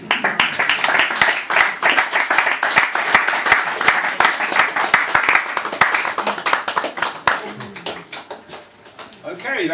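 An audience applauds after a poetry reading, sustained close clapping from many hands with voices mixed in, thinning toward the end as a voice comes through.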